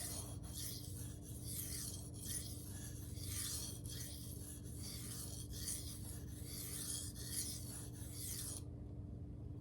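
A free-hand sharpened M4 steel knife hardened to 66.5 HRC, drawn in repeated passes across a sharpening stone, making a continuous close gritty rasping scrape with rhythmic strokes that stops abruptly near the end.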